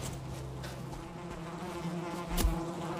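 Buzzing bees in the survival video game Valheim, a droning insect hum that holds steady under the game sounds, with a brief louder thump near the end.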